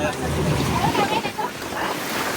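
Sea waves in Goa surging and splashing against a small boat, a continuous near washing and sloshing mixed with wind rumble, with a voice talking over it.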